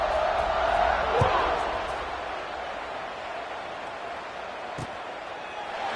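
A college football stadium crowd, ODU on the field, keeps up a steady, dense roar after a score, with a louder swell in the first second or so and a couple of brief thumps.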